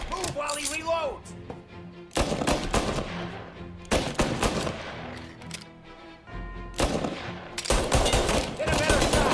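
Gunfire in the video game Mafia: The Definitive Edition, repeated loud bursts of shots in clusters separated by short lulls, with shouted voices of characters mixed in.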